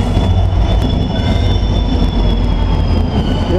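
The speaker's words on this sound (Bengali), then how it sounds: "বন্দে ভারত এক্সপ্রেস।" Vande Bharat Express train running in India, a loud, steady rumble of wheels on rails with faint high squeals, continuous and close throughout.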